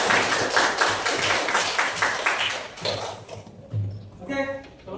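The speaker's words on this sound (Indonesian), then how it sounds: "Tepuk tangan dulu." Students in a mathematics classroom clap together, producing a few seconds of brisk, fairly close clapping. The clapping fades and is followed by some brief voices.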